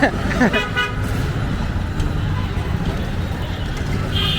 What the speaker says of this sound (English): Not this traffic noise, not just honking, but some new addition.